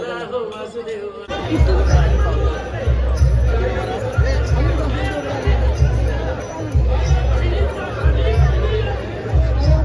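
Busy crowd chatter at a Swami Samarth temple in the morning, many voices blending into a loud, steady babble with occasional thumps and tinkles throughout.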